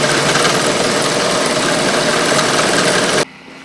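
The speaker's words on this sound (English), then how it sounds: "I've got that little end mill cruising along around more than 1200 RPM, I think maybe 1500" An end mill on a milling machine runs at roughly 1500 RPM, a loud, steady whirring drone that cuts off abruptly near the end.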